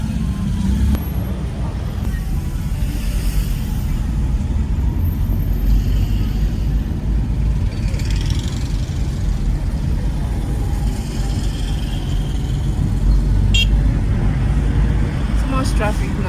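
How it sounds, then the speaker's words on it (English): Steady city traffic on a Kigali road, a continuous low rumble of cars, buses and trucks idling and passing close by, with people talking over it; no distinct horn blasts stand out. "So much traffic now."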